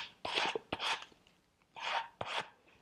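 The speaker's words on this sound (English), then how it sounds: "I'll come in with my sanding paper and sand and round this off." Sandpaper rasps back and forth over the edge of a wooden furniture leg to round it off, four short scraping strokes in pairs with brief pauses, close and fairly quiet.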